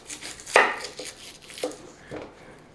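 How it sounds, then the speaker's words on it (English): A knife chops through an onion on a cutting board during home cooking for spaghetti bolognese: four distinct, close blade strikes spaced about half a second apart, the first one sharpest and loudest. "So we're going to cut through the center."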